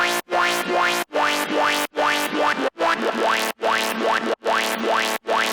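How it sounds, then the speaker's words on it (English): Heavily processed drop synth built from the Massive preset Wind Her Up, playing repeated rhythmic bursts with rising pitch sweeps, each cut by short gaps, loud and alone. "The main drop synth is also a Massive preset called Wind Her Up"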